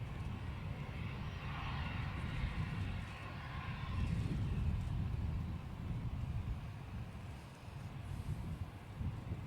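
An airliner taxiing and turning at Manchester Airport, heard from a distance as a steady low engine rumble with some wind noise and no talk.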